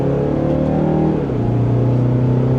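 A 2026 Mazda CX5 S Premium Plus in sport mode accelerates hard from second gear with the pedal floored, its engine note rising steadily in pitch, loud and close from inside the cabin.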